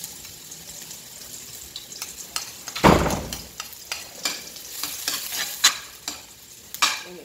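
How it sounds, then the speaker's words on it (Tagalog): Chopped garlic sizzles in a pan as the base for a Boholano-style spaghetti sauce, a sharp burst of frying at first that settles into a steady crackle with repeated spoon scrapes and stirring clatter, close and alone. "So una, ito ang ilunod ang ahos"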